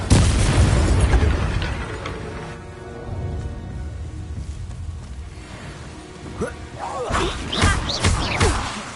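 A Bombarda spell in the video game Hogwarts Legacy erupts as a heavy booming blast with deep rumble, followed by whooshes and crashing bursts that rise again toward the end.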